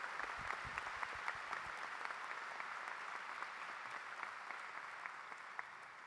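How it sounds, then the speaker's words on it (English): A seated crowd at a medical school hooding ceremony claps for a group being honoured, a fairly distant, even ovation of many hands with a few sharper nearby claps popping out early on. "Would you please give a round of applause for this extraordinary group of people?"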